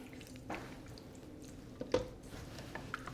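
Chili mixture with ground pepper stirred in a slow cooker, soft wet squishing and a couple of thick squelches over a few seconds, quiet and close.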